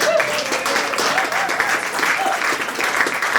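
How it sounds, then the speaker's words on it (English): An evening art gathering's audience applauds for a quilt donor, a dense, continuous wash of many hands clapping at steady loudness, with faint voices mixed in beneath. "Give Carolyn a round of applause."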